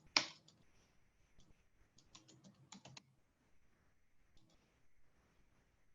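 Fingers tap out a search on a computer keyboard, quiet clicks arriving in short irregular bursts with pauses between, close by and with no talking.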